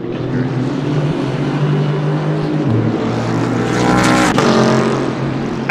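GT3 race car engine at Mount Panorama, Bathurst, in a racing game, a loud, close harmonic engine drone that drops in pitch as the driver lifts off the throttle, then flares briefly before settling again.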